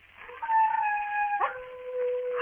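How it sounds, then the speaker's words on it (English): Wild dogs on a moor at night, baying and howling: long sustained wavering howls, one voice gliding down then a second joining, close and clear with no talk. "There are wild dogs on the moor. Sometimes they bay and howl."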